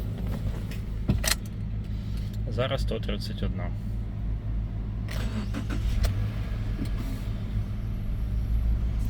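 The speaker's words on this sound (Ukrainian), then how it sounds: "Зараз давайте запустимо зразу двигун." Subaru Forester 2014 with the 2.5 engine starting and settling into a steady low idle hum, close by, with someone speaking over it and brief clicks and rattles.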